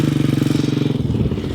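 A Can-Am quad's engine runs close by in a steady, throbbing pulse with a rapid rhythmic beat, holding a constant pace through a brief moment.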